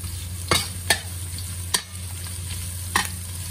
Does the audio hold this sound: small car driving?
no